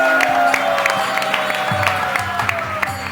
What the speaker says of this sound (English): Let's have a big round of applause for Kinshana.